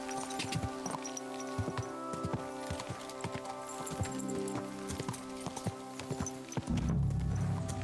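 Horse hooves clip-clop in a steady walking rhythm in Kingdom Come Deliverance 2, fairly close, over a busy ambient game soundscape, ending with a heavier low rumble.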